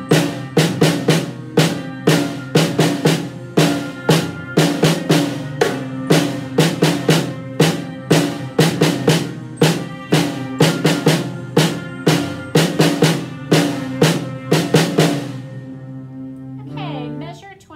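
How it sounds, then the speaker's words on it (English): Drumsticks strike in a steady, even beat for about fifteen seconds in a school percussion exercise, each hit sharp and close, then the playing stops and a faint ringing decays alone. "Let's try it with our sticks"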